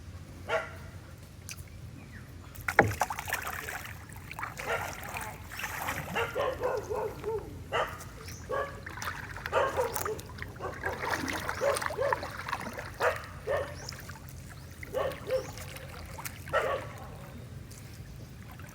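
A dog barks in scattered, fairly faint bursts beside the Pakatan river, with water trickling and gentle outdoor noise underneath.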